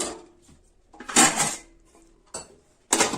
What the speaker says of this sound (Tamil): இப்போ ஒரு தட்டு போட்டு மூடி வச்சிருந்தாங்க.